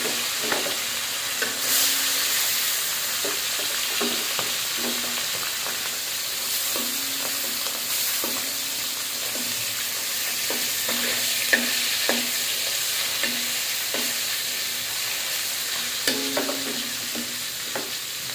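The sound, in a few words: jatka fish frying in hot oil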